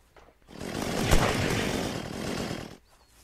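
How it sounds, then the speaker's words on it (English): A chainsaw in the video game Unturned roars to life nearby, a loud rough buzzing that swells, holds for about two seconds, and then drops away. "That was my chainsaw."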